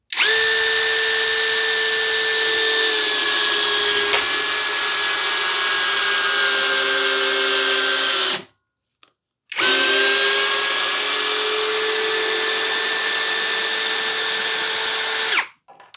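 A Hanabi impact driver drives a 1/4 x 100 mm screw into old, well-used wood that splits, sounding as two long, loud, steady whirring bursts of about eight and six seconds, separated by a brief pause.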